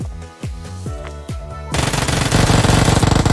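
Rapid automatic gunfire in the mobile battle game BGMI, a few single shots at first, then a loud sustained burst of fast repeating fire.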